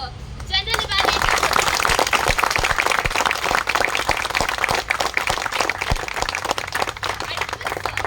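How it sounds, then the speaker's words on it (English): An audience claps to welcome the General Evaluator at a Sicasa Speakers' Forum meeting in Bengaluru, a lively steady round of applause that starts after a brief opening voice and continues to the end. "please join me with a round of applause in welcoming Mr. Ramlal Sir, General Evaluator"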